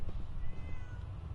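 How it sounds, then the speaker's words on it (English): Cat meowing in Fallout 4, a single soft drawn-out meow, faint and low over a murmuring game background. "Is that the same cat?"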